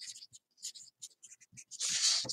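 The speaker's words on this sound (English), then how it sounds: "Let's write that down on this piece of paper so I can lose it." A pen writes on a piece of paper in a mixed-media crafting session, with quick scratchy strokes in short bursts, close and alone, ending in a longer, louder scribble.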